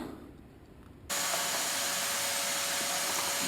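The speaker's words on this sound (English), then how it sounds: "has got the vacuum cleaner going" A vacuum cleaner switches on after a second of quiet and runs loudly and steadily with a high whine, no voices.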